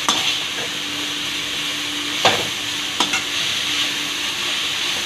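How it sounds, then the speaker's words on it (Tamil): Vegetables sizzle in a pan with ginger garlic paste and green chilli for a veg soya shawarma filling, a constant close hiss punctuated by a few distinct spatula scrapes and taps, no voices. "வெஜிடபிள்ஸ் எல்லாம் நல்லா ஃப்ரை ஆயிடுச்சு"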